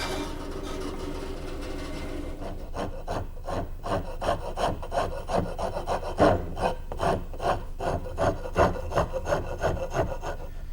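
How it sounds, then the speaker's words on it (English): A wood rasp shapes a wooden rear stile for a child's high chair, giving steady rhythmic rasping strokes, loud and close, with a brief smoother passage before the strokes begin. "shape the rest of it with my wood rasp"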